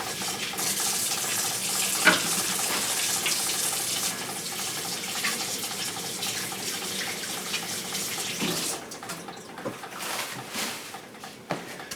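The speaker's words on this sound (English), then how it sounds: "So I'm going to wash my hand and then we can start." Hands washed under a running kitchen tap, a steady broad rush of water lasting throughout with occasional small splashes and clinks, fairly close, with no voices.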